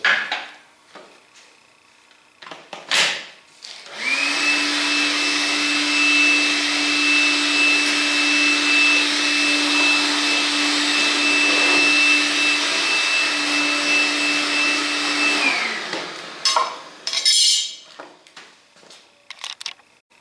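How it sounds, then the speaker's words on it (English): A vacuum cleaner starts up and runs with a loud, steady whine for about eleven seconds, then shuts off, with faint clatter before and after. "let's run our vacuum cleaner again"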